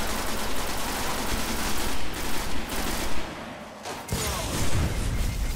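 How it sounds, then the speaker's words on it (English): Rapid, dense gunfire from a powerful automatic weapon in the video game Destiny fills the whole stretch, loud and continuous with brief dips, with no talking. "This gun's really powerful, like really shoots really quickly"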